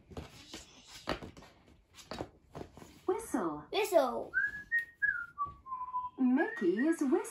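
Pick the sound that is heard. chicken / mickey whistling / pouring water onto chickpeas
mickey whistling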